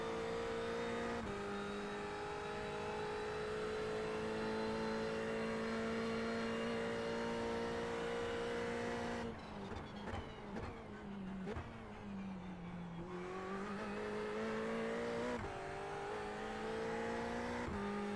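Race car engine from a racing simulator game on the new Fanatec CSL DD wheel base, droning steadily through a lap with sustained tonal whine, then a stretch of downshifts and revving through a corner before climbing back up.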